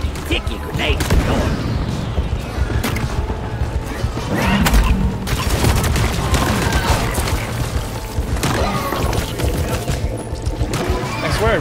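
Sticky grenades and gunfire go off in the co-op mining shooter Deep Rock Galactic, giving dense, continuous booms, crashes and chaotic combat noise with no clear gaps between blasts.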